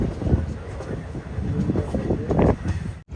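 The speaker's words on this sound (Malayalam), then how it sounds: "ട്രെയിൻ ഇതാ ബനിഹാൾ സ്റ്റേഷനിലേക്ക് എത്തിക്കൊണ്ടിരിക്കുകയാണ്" A train rumbles and clatters steadily as it approaches Banihal station in snowy Kashmir on the Srinagar route, with a continuous low rolling roar and some wind noise before an abrupt cut near the end.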